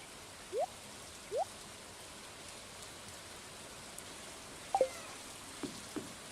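Steady soft video game rain patter with a faint hiss, a few brief chirps and small tonal blips popping up now and then, no talking.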